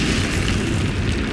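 The Incendio fire spell in Hogwarts Legacy roars as a dense, loud, low rumbling burst of flame that stays steady through the short moment.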